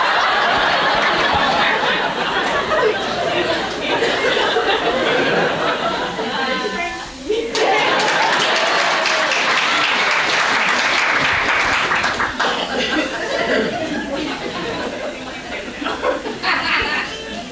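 Sustained audience applause fills a lecture hall for a long stretch, loud and dense, with scattered laughter and chatter mixed in and a brief dip partway through.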